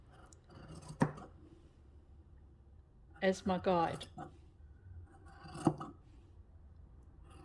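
Scissors cutting fabric with long cuts along a drawn line, giving a few faint, sharp snips spaced a couple of seconds apart, with a brief spoken phrase in between.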